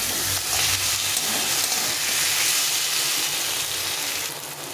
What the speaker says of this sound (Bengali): এখন এর মধ্যে এই কাঁকড়াগুলো দিয়ে দেবো, দিয়ে একটু আর একটু কষিয়ে নেব